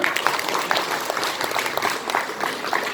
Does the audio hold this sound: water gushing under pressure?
no